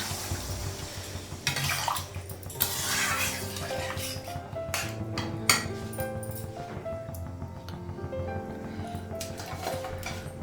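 Water poured into a pan of cauliflower and potato curry, splashing and bubbling close by, mixed with clinks of utensils against pots and dishes in a home kitchen; no talking.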